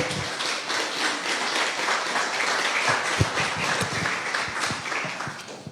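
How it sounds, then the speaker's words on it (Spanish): A church congregation claps in praise, a mid-loud spread of many hands with some distinct sharp claps popping out, steady for several seconds. "¿Podemos darle un aplauso al Señor mientras yo tomo un poquito de jugo?"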